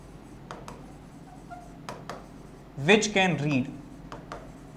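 A marker or chalk writing on a classroom board gives faint, intermittent short scratching strokes, with a brief burst of speech partway through.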